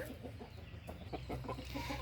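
Hens clucking on a country chicken farm, a soft run of repeated short clucks from nearby birds over a steady low background.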